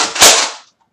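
A toy foam blaster slam fires once, giving a sharp, loud, close crack that decays over about half a second into silence.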